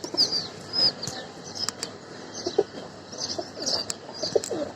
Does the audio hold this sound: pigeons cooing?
yes